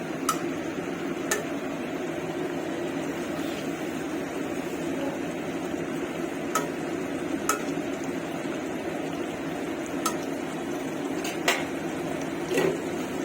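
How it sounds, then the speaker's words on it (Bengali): Food cooking uncovered in a pot on low heat is stirred, with a soft steady simmer and sharp clinks of a spoon against the pot every second or so. "ঢাকনাটা সরিয়ে লো হিটে রান্না করতেছি। আমি আবার একটু নেড়ে চেড়ে দিচ্ছি।"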